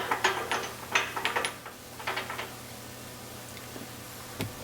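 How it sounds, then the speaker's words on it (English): Reverse idler gear and its supports being fitted into a Porsche 915 transmission, with a cluster of light metallic clicks and ticks of parts seating, close and moderately loud at first, then fading to quiet background with one last click. "I got to put the reverse idler gear supports in at the same time as I put the gear in"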